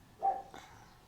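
A single dog bark in a rural village setting, short and fairly close, followed by a fainter second sound, with no talk.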